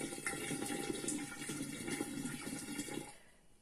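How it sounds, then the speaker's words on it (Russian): Water pours into a glass bottle holding gooseberry pulp for homemade wine, a steady gurgling splash with bubbling rising in pitch as it fills, fairly faint and tapering off near the end, with no talking. "И сейчас буду заливать воду"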